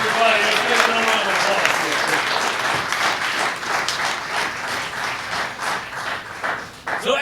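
Sustained audience applause, dense and fairly loud, runs throughout with voices talking over it, tapering slightly near the end.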